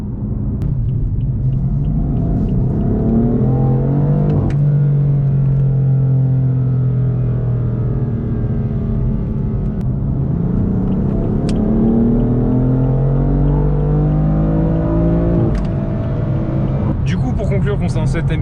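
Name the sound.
BMW M4 F82 engine revving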